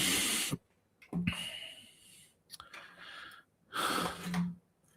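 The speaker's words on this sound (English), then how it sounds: "he's still snoring." A person snoring in bed, loud rasping breaths that come in three separate bursts with quiet gaps between them, close and alone.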